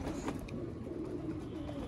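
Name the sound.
pigeons cooing as they are taken out of the loft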